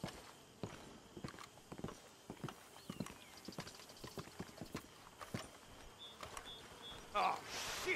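Horses' hooves clip-clop at a walking pace in the Red Dead Redemption 2 video game, a steady irregular patter of fairly near steps under quiet game talk, with a brief louder burst near the end.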